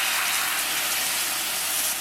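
Heavy cream poured slowly into hot caramel sauce on the stove gives a steady, loud, bright hiss and bubbling gush that runs unbroken throughout, with no voices.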